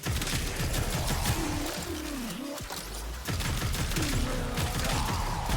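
Rapid, continuous automatic weapon fire in the shooter game Warframe, a dense rattling stream of shots over whining, wobbling weapon effects, loud and close with a brief pause midway.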